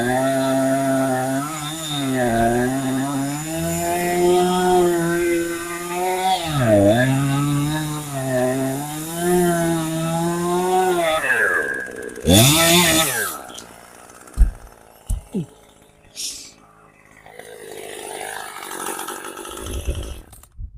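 A Husqvarna battery-powered electric chainsaw whines steadily at close range while cutting wood, its pitch dipping under load, then stops, leaving brief knocks and handling noises.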